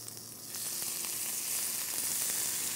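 Wild boar meat frying in sesame oil in a non-stick pan, a steady close sizzle that jumps louder after the first half second and stays even, with faint crackles throughout.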